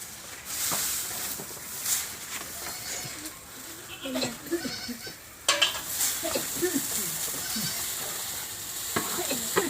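Goat bleats in a rural village setting, a few short calls scattered across the scene amid background stirring and clatter, with people talking nearby.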